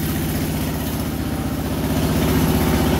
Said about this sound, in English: All right, so this is running diesel right now.